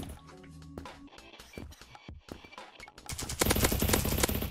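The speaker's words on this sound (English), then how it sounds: "I'm doing so much damage with just a pistol." Auto pistol gunfire in the Krunker.io video game, rapid bursts of loud synthetic shots in quick succession, building into dense continuous firing toward the end, with no talking.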